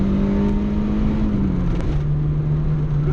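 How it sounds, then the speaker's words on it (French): A Peugeot 205 GTI engine drones loudly and steadily up close, its pitch dropping partway through as it shifts down. "Ah, le moteur il est rageur."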